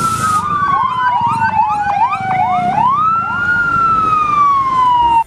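Toy fire truck siren wailing loud and close, a continuous electronic tone that sweeps down, jumps up and slides down again, with a brief chirpy burst at the start and no talking.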